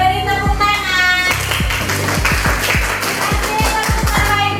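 A classroom of students claps hands on a teacher's cue, giving a sharp, rhythmic series of patterned claps close by over a sustained musical background.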